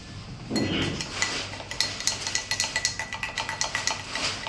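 A stirrer clinks rhythmically against a glass while mixing a barley powder drink, a steady run of quick, close metallic taps after an initial clunk, with no talking.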